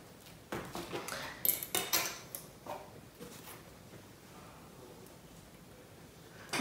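Metallic clicks and taps as makeup is set down onto a metal makeup palette, a handful of quiet uneven knocks and scrapes close by, then mostly silence.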